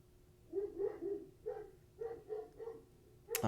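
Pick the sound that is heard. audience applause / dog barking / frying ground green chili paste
dog barking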